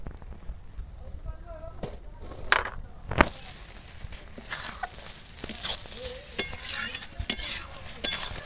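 Ground cumin paste stirred into a simmering banana flower and prawn curry with lentils, a spoon scraping the pan in uneven strokes over a faint sizzle, with a few sharper knocks of utensil against metal.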